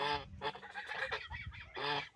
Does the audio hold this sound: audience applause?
no